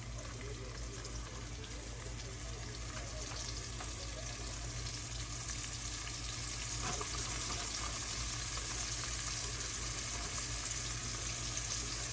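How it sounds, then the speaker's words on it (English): Floured pieces of food fry in hot grease in a skillet, giving a steady, close sizzling hiss with a low hum underneath and faint scraping as the pieces are pushed around, with no talking. "We're going to get it floured up and put it in the hot skillet."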